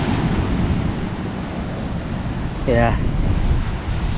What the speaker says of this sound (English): The waves are hitting those rocks.